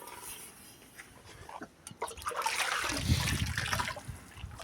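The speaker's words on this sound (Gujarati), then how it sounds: "થોડુંક પાણી નાખી દઈશું" Water is poured and splashed over a buffalo during a bath on a farm, starting as soft trickles and building to a fuller, louder gush of splashing water near the end.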